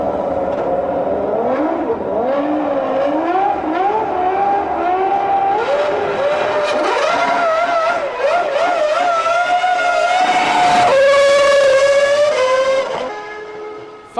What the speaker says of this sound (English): All the revs on the rev limiter, drop the clutch, spin the wheels, 50 quid's worth of rubber on the racetrack.